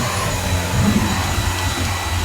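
A Kalado cordless vacuum cleaner runs at full power on carpet, giving a loud, steady whooshing roar close by with a slight low rumble and no voices.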